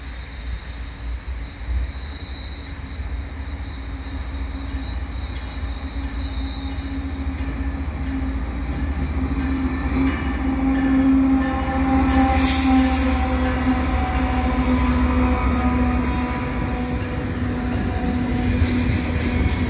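A CN freight train rumbles past on the tracks in the rain at Dorval, Montreal, loud and steady, with metallic whining and wheel squeals rising as the cars roll by. No one speaks.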